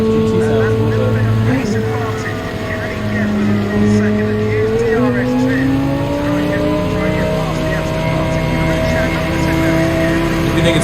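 Race car engines roar continuously in Gran Turismo 7 during an endurance race at the Nurburgring, with loud sustained revving and gear-shift pitch changes blending several cars together, under faint commentary.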